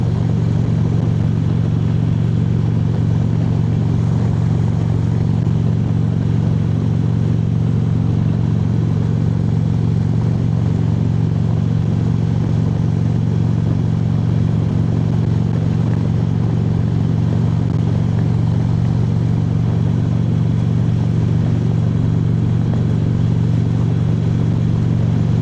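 Harley motorcycle cruising a rural Minnesota road, a loud, steady low engine drone with a constant throb and wind rush, holding an even pace from start to finish without voices.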